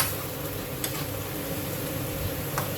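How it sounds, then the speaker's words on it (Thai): Pork ribs and pork belly simmering in a pan, giving a steady soft sizzle and bubbling with a couple of faint clicks, close and unbroken with no talking. "แล้วก็เคี่ยวไปเรื่อย ๆ ค่ะ"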